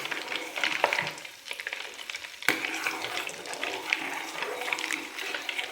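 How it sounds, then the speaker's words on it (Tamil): Butter crackles and sizzles steadily in a pan as it cooks down into ghee, a dense, close frying hiss broken by a few sharp pops and stirring scrapes. "வெண்ணெய் எல்லாம் இருக்குல்ல, அதை கடைசியில் கொஞ்சம் அப்படியே பொரிஞ்சு ஒரு மாதிரி சவுண்டு கேட்கும்"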